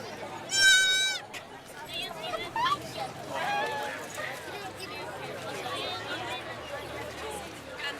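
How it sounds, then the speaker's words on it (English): Small sheep and goats bleat at an animal blessing event, a loud high bleat near the start followed by scattered shorter calls amid crowd chatter and people talking nearby. "Look at that little sheep."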